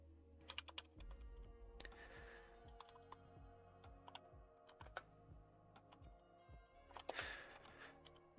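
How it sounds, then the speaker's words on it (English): Typing on a computer keyboard at a home trading desk, a steady run of close, crisp key clicks with irregular bursts and pauses, no talk. "I'm just typing a message here for the Discord breakdowns."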